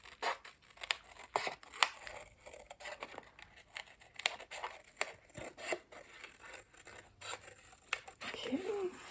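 Scissors snip through paper in a steady series of crisp cuts, with soft rustling between them and a voice murmuring faintly near the end.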